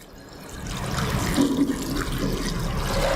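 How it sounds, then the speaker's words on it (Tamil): Salt water poured over aloe vera gel makes a continuous splashing, gurgling flow that swells slightly as it goes, close and alone without speech. "இந்த தண்ணி மட்டும் இதில் மேலால் ஊற்றுறோம்"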